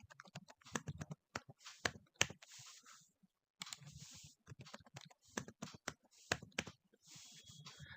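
A password being typed on a computer keyboard during a website sign-up, bursts of quick close key clicks with short pauses between runs, clear and alone.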